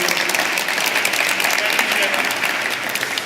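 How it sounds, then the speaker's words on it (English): Conference audience giving a round of applause after a frontend workflows talk, steady dense clapping throughout, moderately loud and uninterrupted. "So big round of applause to him."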